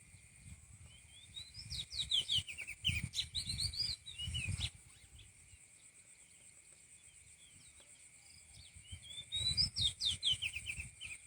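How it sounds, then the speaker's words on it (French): Many birds chirping and twittering at dusk as they come to roost in rural Isan, Thailand, with insects trilling steadily underneath; the chirping comes in dense bursts, fades for a few seconds, then swells again. "Il y a plein d'oiseaux qui viennent se coucher."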